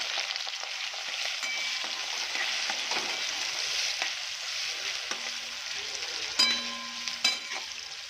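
Chopped onion sautés in a pan with garlic and cumin, giving a steady, bright sizzle with occasional stirring scrapes and clinks. No one talks.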